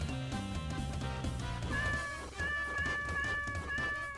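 A cat meows in the video game Deltarune over continuous game music with a steady melody, the meows close and clear and repeating through the passage.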